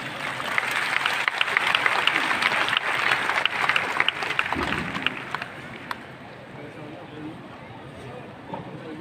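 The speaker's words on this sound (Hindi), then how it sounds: "जोरदार तालियों से आप स्वागत कीजिए प्लीज" Audience applause welcoming a guest at a product launch event for Rootpure Golden Root Drops: a dense, steady wash of clapping that holds for about five seconds, then fades and thins out.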